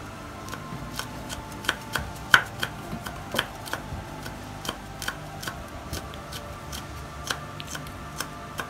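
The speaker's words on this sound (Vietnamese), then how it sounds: "bây giờ tôi sẽ tiến hành băm nhỏ cái phần ớt này." A knife minces deseeded chili peppers on a cutting board, producing quick, light, close taps in an uneven rhythm, fairly quiet and with no talking.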